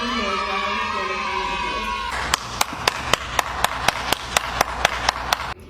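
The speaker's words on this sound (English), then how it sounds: "Round of applause." A round of applause breaks out after a couple of seconds of noisy background, with a steady run of sharp, evenly spaced claps, close and fairly loud.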